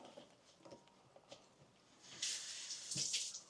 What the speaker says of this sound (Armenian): Ձեռքերը մի քիչ ջուր ենք անում,